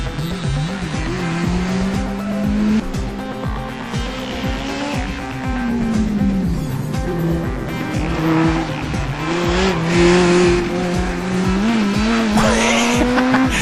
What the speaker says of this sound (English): Listen carefully to those two engines